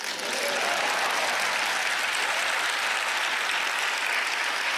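Audience applause at a live magic show, a dense, steady burst of clapping from a large crowd, loud and sustained throughout.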